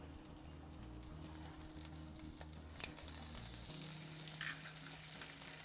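An egg sizzles and spits steadily in a hot frying pan, a close, continuous crackle with a faint clink near the middle and a steady musical tone running beneath.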